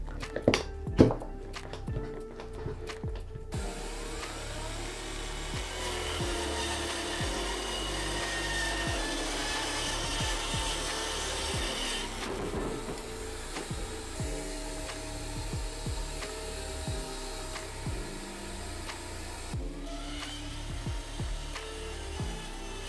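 A mini circular saw cuts through wood clamped to a work table for furniture dollies: a few sharp knocks, then a sustained whining buzz of the blade in the wood, close and fairly quiet, with a brief dip midway.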